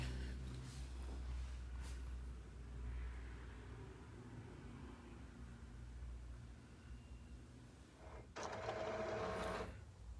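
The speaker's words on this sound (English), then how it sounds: "I accidentally hit my printer button." A home printer runs after its button is pressed by accident, a continuous mechanical whirring and rumbling hum with a louder burst of feeding noise near the end, heard alone.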